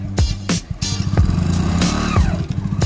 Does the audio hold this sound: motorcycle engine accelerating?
yes